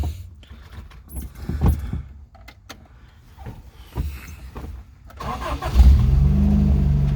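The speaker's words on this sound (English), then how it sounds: "let's go ahead and crank it up" A 1986 Toyota Pickup 4x4 engine cranks briefly and catches, then settles into a loud, steady idle close by, after several seconds of quieter shuffling and clunks.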